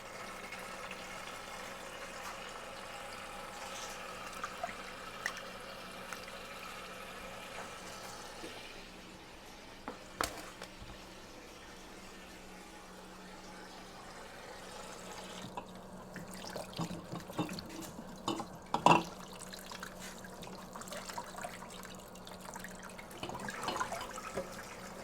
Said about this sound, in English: just give my carrot greens a good rinse before I pop them in here